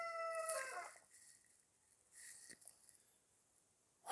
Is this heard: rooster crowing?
yes